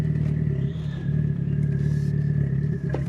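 A budget VW Passat B5 with a 1.8T turbo and loud exhaust idles and revs nearby, a low, rumbling drone with a thin turbo whistle on top and slight swells in level, with no talking.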